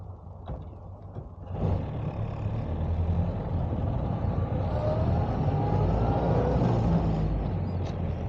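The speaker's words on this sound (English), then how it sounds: "One car coming." A car approaches and passes along a highway near a busy truck stop, a low rumbling swell that rises after a quiet start and holds steady, heard from a 1929 Model A Ford.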